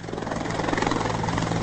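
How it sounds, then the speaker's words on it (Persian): Helicopter landing on the deck of the IRGC navy warship Shahid Rudaki at Bandar Abbas, a steady loud rotor and engine drone with a low pulsing thrum that holds throughout, with no voices. "با فرود آمدن این بالگرد، چیدمان تسلیحات و تجهیزات روی نخستین شفره رزمی شناور سپاه کامل شد"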